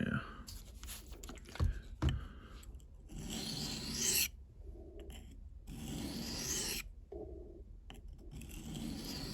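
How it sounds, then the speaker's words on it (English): A kitchen knife blade is stroked across the fine-grit side of a whetstone outdoors in cold weather, giving repeated raspy scraping passes at close range, with someone talking over much of it. "So let's kind of hit it on this finer grit side a few times here."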